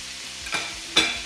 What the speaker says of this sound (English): That hot sizzle. Your oil is hot enough.